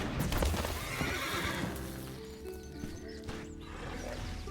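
A horse named Shadowfax, sound effect from a Lord of the Rings card video game, gives a loud, shaky whinny that fades out, with a few hoof clops in the first part of the effect.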